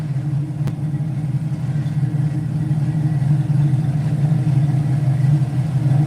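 A 1965 Ford Mustang with a 289 V8 idles nearby in a steady, even low rumble that holds constant throughout with no voices over it.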